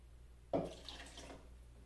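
A third of a cup of black cherry sparkling water is poured for a summer berry spritzer: one close pour starts abruptly after a short silence, then a soft fizzing splash trails off.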